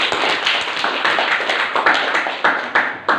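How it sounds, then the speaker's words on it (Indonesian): Students clap together in a school classroom: a short, brisk burst of close, loud hand claps in a loosely regular rhythm, with no talking. "tepuk tangan dulu untuk semuanya"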